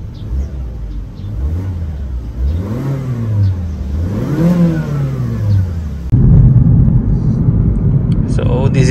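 Stock engine of a Mazda 3 revs up and down in repeated swelling pulls, heard close from inside the car, then settles into a louder steady drone as it moves off.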